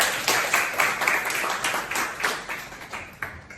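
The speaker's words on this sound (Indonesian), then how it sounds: "tepuk tangan untuk dia" Classroom applause for a student during a teaching practice lesson: a steady run of many hands clapping fairly close and moderately loud, fading slightly toward the end.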